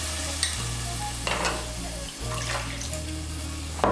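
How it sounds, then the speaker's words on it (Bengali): Water poured into a pan of frying spice paste for a Bengali raw-banana kofta curry, a steady close sizzle and stirring with a few clinks and splashes, no talk. "আমি মশলার বাটিগুলো ধুয়ে এর মধ্যে 1 কাপ জল দিচ্ছি।"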